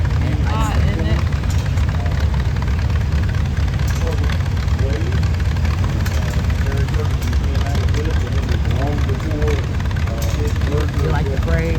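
Old tractor engines rumble and idle steadily at close range during a steam and gas engine association parade, a continuous loud drone under people talking nearby.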